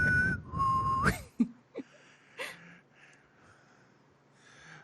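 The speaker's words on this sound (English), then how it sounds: "all I can think to whistle would be like the tune from Hunger Games" Someone whistles a short melody at the start, with gliding pitched notes, then breaths and soft snorts follow in quiet surroundings.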